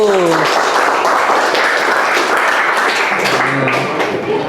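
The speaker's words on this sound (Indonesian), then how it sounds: "Tepuk tangan buat kelompok 1." Applause for a student group in a classroom or workshop session, a continuous round of clapping with voices briefly audible at the start and again near the end.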